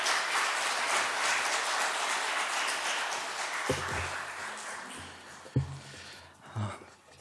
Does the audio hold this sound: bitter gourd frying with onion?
no